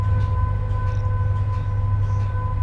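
A train rumbles steadily in a train simulator video game, a deep continuous drone with a faint tonal whine and soft rhythmic clatter, no voices.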